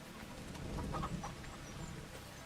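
Chickens in Farming Simulator 25 cluck softly in a few short, faint bursts over a steady farmyard background hum.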